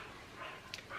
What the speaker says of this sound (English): Would you please excuse my dog?